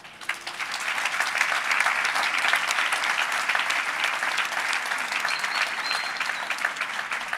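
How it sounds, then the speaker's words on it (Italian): Sustained crowd applause, steady and dense throughout, with lots of overlapping claps at a fairly loud, even level. "Un applauso anche, grazie veramente"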